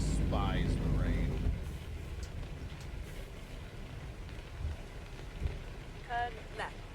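Steady rain in American Truck Simulator, a soft continuous hiss under a low truck rumble, with a voice speaking briefly over it at the start and near the end.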